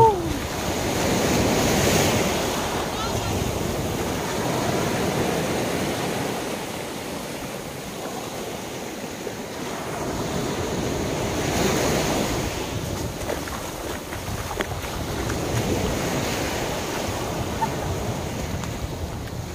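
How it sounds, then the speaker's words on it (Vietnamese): Sea waves at Thiên Cầm beach in Hà Tĩnh roll in and wash out in slow, broad surges about every ten seconds, steady and moderately loud with wind noise over the microphone. "sóng biển dập dào nhìn rất là đẹp nha các bạn"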